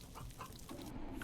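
Chickens in the video game RimWorld, a flock of hens and cockerels, clucking in soft, scattered bursts at low volume across a short stretch.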